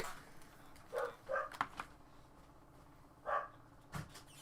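A dog barks in scattered bursts, a pair of quick barks, a pause, then another single bark, moderately near over quiet outdoor background with faint knocks.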